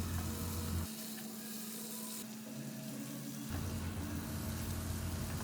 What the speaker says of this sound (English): now I will reduce the flame to medium and stir the mutton in between so that the spices doesn't get burned at the bottom of the kadhai